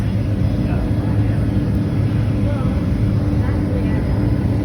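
A plane taking off from San Francisco Airport, its engine roar heard from inside the cabin as a loud, steady, dense rumble that runs throughout.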